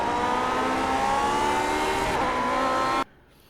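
A Lotus 49 racing car in iRacing at Motegi accelerates out of a corner, its engine a loud, rising, high-pitched whine that cuts off abruptly near the end.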